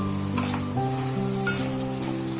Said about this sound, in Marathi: आता यात घालूया आपण हिरवी कापलेली मिरची